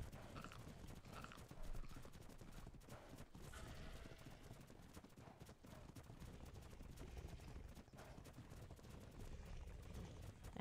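Horse hooves clip-clop steadily on the ground in ARK: Survival Evolved, the quick, fairly dense beats continuing throughout with faint game ambience behind them and no talk.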